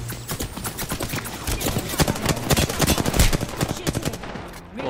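Rapid bursts of gunfire from the Apex Legends video game, with dense repeated shots and impacts going on steadily and loudly throughout, while a sniper-armed player's match carries on around them.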